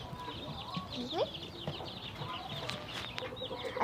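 Roosters clucking in a farmyard while chickens are fed, with scattered nearby clucks and short calls over a busy background and a voice talking among them.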